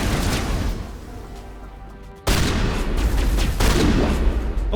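Shotgun firing in the video game Mass Effect: a heavy blast cuts in after a quieter stretch of combat noise, followed by continued loud booming shots up close.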